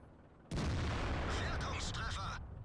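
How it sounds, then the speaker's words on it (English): A single heavy cannon shot from a Jagdtiger tank destroyer in the video game World of Tanks, a sudden loud blast that rolls on for about two seconds before fading, with a voice speaking over the tail. "And that shot was so powerful, it just broke the stats at the top of the page."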